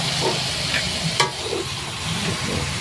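Chicken tinola being stirred in a cooking pot, a busy wet sizzle with scraping and soft clatter that runs steadily throughout, with one sharp utensil knock partway through.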